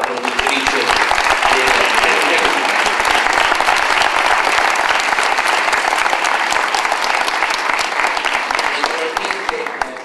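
Sustained, loud audience applause at a film presentation in the Italian Chamber of Deputies, dense, even clapping from a large crowd for the full stretch, with a voice faintly present beneath it.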